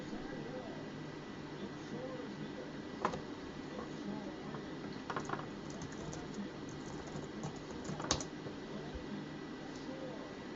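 Computer keyboard typing with a few sparse, sharp key clicks and a backspace-style tap over a steady hum of background noise, with a voice talking in the room.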